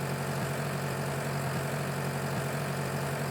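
A tractor engine idles in Farming Simulator 19, a steady low, even drone that holds level throughout with no speech over it.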